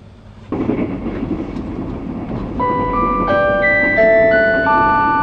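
The Nihonkai sleeper express runs on rails between Kanazawa and Osaka with a steady rolling rumble. Partway through, a series of clear sustained tones rises over the noise and holds to the end.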